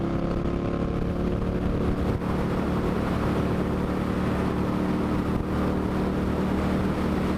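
Steady, continuous drone of an Indian motorcycle's engine running while being ridden on the road, a constant loud hum with wind rush and no talk.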